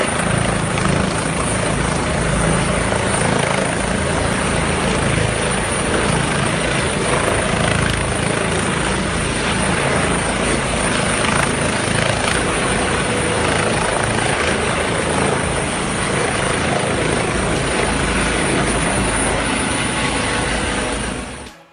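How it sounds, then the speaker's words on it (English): A SEM rescue helicopter flying low over Garraf Beach near Barcelona, a loud, constant rotor and engine roar that stays close and unbroken almost to the end. "A daring and risky maneuver by a SEM helicopter pilot as he approaches a severely injured motorcyclist on the Garraf Beach"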